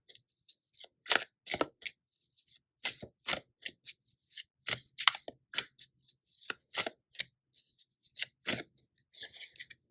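Tarot cards being drawn and shuffled from a deck, with crisp, irregular riffling and flicking bursts and short scraping slides, close up and fairly quiet, with no speech.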